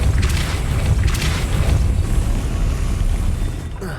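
A spell cast in the Hogwarts Legacy video game, a deep whooshing boom that rolls through the whole stretch, loud and close, with a rushing swell near the start and a fade at the very end.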